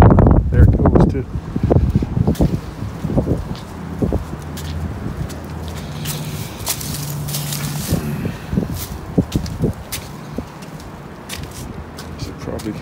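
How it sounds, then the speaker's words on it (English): Strong gusts of wind blow outdoors where someone is rebuilding a 1982 Suzuki GS1100 GK motorcycle, buffeting the microphone with loud, rumbling rushes and some shuffling movement nearby. "here comes that wind again"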